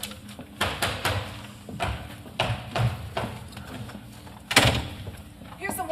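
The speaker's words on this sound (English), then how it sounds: "All right, Frank, will you give me a knock, some footsteps, and a tiger roar?" Live radio drama sound effects: several sharp knocks and thumps in an irregular series, close and fairly loud, with one louder hit near the end.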